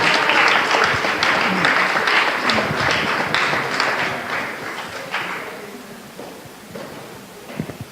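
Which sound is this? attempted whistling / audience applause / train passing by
audience applause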